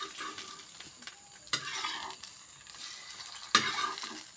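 A home-cooked dish sizzles and fries in a pan while being stirred, with steady crackling and a couple of sharper scraping strokes of the spoon against the pan, close and fairly quiet, no talking.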